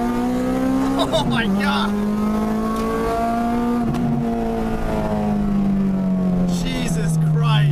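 Inside an Acura or Honda with a VTEC engine and manual stick shift at a car meet, the engine revs climb hard in repeated pulls while excited voices exclaim over the roar.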